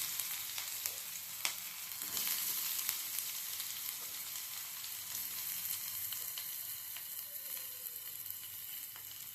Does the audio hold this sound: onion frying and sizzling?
yes